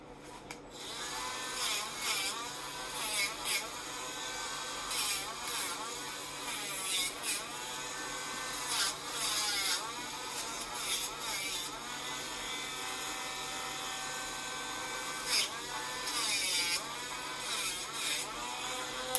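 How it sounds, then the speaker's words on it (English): A Dremel rotary tool fitted with a groove bit grinds nails, a high, steady buzzing whine that rises and dips in short passes, close and alone. "I'm going to do the same thing with the Dremel."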